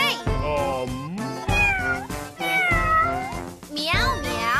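A sung, cartoonish meowing voice in a children's farm song, imitating a cat with several drawn-out, pitch-bending meows in a row, loud and close.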